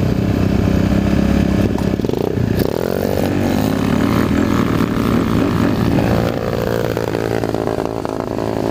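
A motorcycle engine drones steadily and loudly close by throughout a ride, with a brief dip in pitch partway through before the revs build again.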